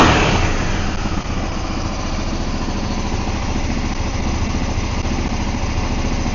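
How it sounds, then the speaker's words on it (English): A Yamaha V-Star 650 motorcycle engine idles steadily up close, firing on both cylinders with a continuous rough, even putter and no talking. "we'll just give it a quick run. Oh, it's actually running on 2 cylinders now."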